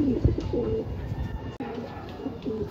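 Racing pigeons coo softly and repeatedly at a loft during a training flight, with low throaty calls over faint background noise and no speech.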